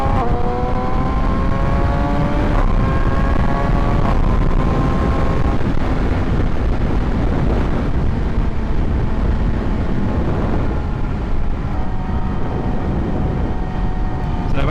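A 2017 Yamaha R6 motorcycle with an Akrapovic exhaust opened up on a straight, its engine climbing steadily in pitch through quick-shifted gears under loud, steady wind rush.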